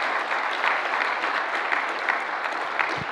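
Sustained applause from an audience at a seminar on 2020 income tax law reforms, dense and steady throughout with no break.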